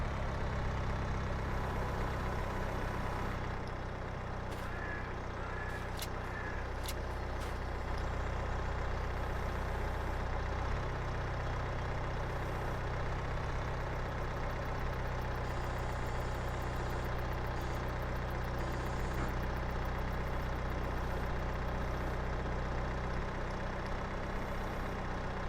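A truck engine in Farming Simulator 22 drones steadily while driving on back roads, a low continuous rumble throughout with a brief faint clatter early on and no talk.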